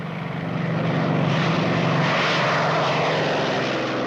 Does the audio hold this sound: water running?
no